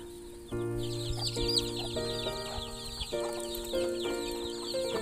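Chickens cluck at a small farm hut by a banana garden as evening falls, several birds giving short, close calls and drawn-out clucks in an irregular, overlapping chatter.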